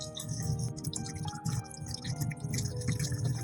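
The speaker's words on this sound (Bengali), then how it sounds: "চিচিঙ্গার খোসা ওঠানো হয়ে গেছে এবার ধুয়ে নেব" Peeled snake gourd is washed with water in a kitchen, with steady dripping, splashing and wet handling noises throughout, close by and without speech.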